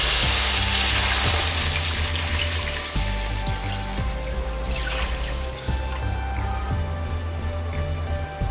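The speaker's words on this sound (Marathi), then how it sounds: "यात आता दूध घालूया।" Milk poured into a hot pan of fried dry fruits while making Ganesh Chaturthi kheer, a steady loud hiss and sizzle running throughout, with a rhythmic low hum beneath.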